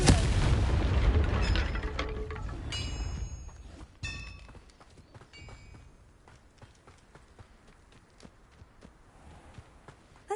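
A loud blast from the Confringo fire spell in the wizarding game Hogwarts Legacy, the burst fading into scattered crackles, light clicks and faint footsteps.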